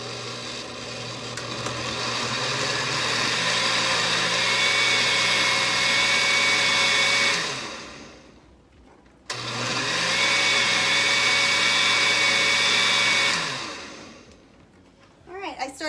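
An electric blender mixes coconut pie filling in two long, loud whirring runs, the motor pitch climbing as it speeds up, with a short pause between runs and a brief clatter at the end.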